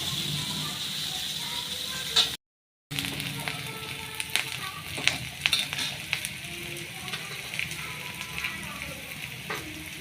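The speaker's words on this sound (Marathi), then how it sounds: "हे मसाला तळू देणार, लाल होऊ देणार आहे याला." Spice masala and green chilies frying in a pan for a spicy chili-onion thecha, a steady crackling sizzle with scattered sharp pops, briefly cut out for a moment, with no talk over it.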